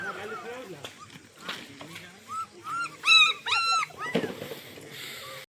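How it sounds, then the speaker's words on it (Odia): A litter of seven or eight newborn puppies whimpers and yips in thin, rising cries, some overlapping in bursts, close by in a rural farmyard. A voice speaks briefly among the cries. "ଗୋଟିଏ କୁକୁର 7ଟା 8ଟା ଛୁଆ ଦେଇଛି ବାବାରେ।"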